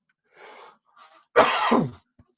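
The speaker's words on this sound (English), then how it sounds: "I keep coughing." A person coughs, a hard, loud burst following a couple of softer breathy throat sounds, then a brief quiet.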